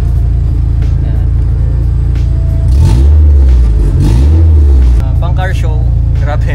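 Mitsubishi 4G63 DOHC engine in a Tamiya Owner Type Jeep with a loud, horn-like muffler, revving hard in two strong surges over a steady idle rumble; people talk over it.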